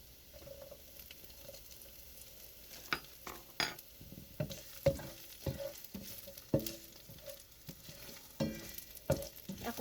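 Garlic and onion sizzle softly in a pan for squid adobo while a utensil scrapes and stirs, making intermittent clacks and scraping bursts over a low, steady frying hiss.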